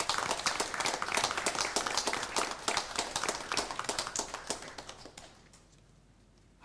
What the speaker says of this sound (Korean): 우리 박수로 한번 축복하겠습니다